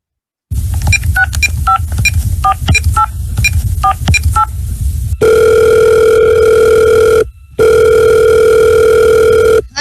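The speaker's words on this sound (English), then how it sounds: "I can add a ringtone." A telephone sound effect added to a recording: a quick run of touch-tone dialing beeps, then long steady ringing tones with a short gap between them, loud and clean with no voices.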